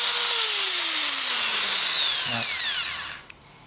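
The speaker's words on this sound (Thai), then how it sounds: "นี้ อันนี้คือสว่าน" An electric drill whines loudly at high speed, its pitch sliding downward as it slows and winds down to a stop.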